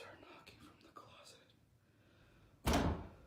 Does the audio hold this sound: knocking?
yes